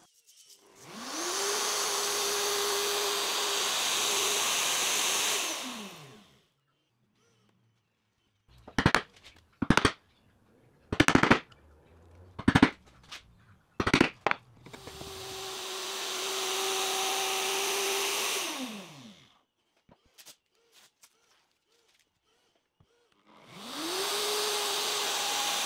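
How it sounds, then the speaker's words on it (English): A handheld router fitted with a 12mm bit cuts 12mm plywood in three loud, sustained bursts of high-pitched whine that spin up and wind down, separated by quieter sharp knocks and clatter in a workshop. "I'm using a 12mm bit in the router for 12mm plywood."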